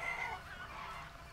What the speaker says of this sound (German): Anscheinend können die Hühner einfach auf Yukis Fallen rauflaufen.